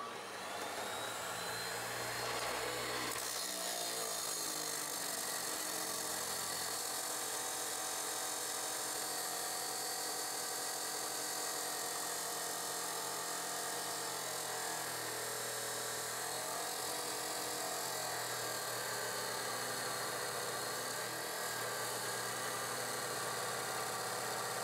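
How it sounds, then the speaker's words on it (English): Saw or grinder cutting steel flat bar for shabby chic shelves, a loud continuous high-pitched whine that keeps going, steady and close, with no talk. "So we're going to go ahead and get these flat bar cut."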